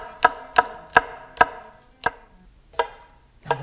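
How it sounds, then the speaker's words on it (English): Knife blade chopping green onions on a cutting board, seven crisp evenly spaced chops close up, slowing slightly toward the end, with no voices. "we are gonna start cutting the green onions now"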